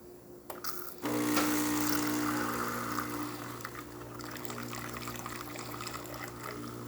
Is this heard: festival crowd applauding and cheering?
no